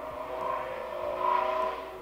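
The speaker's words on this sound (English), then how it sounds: "You hear all these cars outside?" Traffic hums faintly in the distance, with a car swelling slightly louder as it passes.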